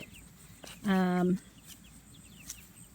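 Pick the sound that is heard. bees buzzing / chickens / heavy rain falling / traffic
chickens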